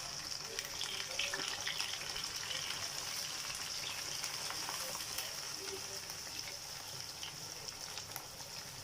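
Chopped chard, coriander and garlic fry in a pan with a steady, even sizzle that crackles close by without a break throughout.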